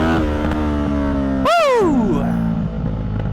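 A motorcycle engine drones at a steady pitch on a night ride, then sweeps sharply up and back down as the rider pulls a wheelie, loud and close with no talk.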